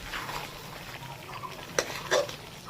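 Chicken with turmeric being sautéed in a pan, a soft continuous sizzle with stirring scrapes and two sharper clinks of a utensil against the pan, close and moderately quiet.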